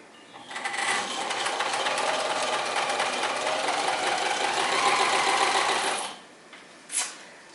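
A vintage Kenmore sewing machine runs a zigzag stitch in one continuous close, buzzing burst of about five seconds, then stops, followed by a short click.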